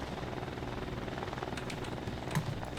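A helicopter built in the Trailmakers video game flies with a steady, continuous rotor and engine drone, fairly loud and unbroken throughout.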